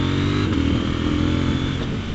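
Close and loud, a KTM 790 Duke motorcycle engine revs out on a road around Lake Garda, its buzzing drone holding steady and then easing slightly.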